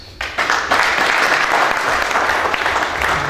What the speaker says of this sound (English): I think Mr. Larry Batetakan deserves another applause.